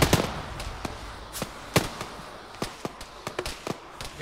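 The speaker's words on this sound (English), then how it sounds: "We're taking shots." Enemy gunfire in the Arma 3 military shooter arrives as scattered, irregular sharp cracks and pops, some louder and some farther off, with no talking over them.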